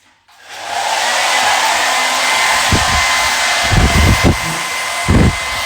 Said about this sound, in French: Il faut tout simplement prendre un sèche-cheveux.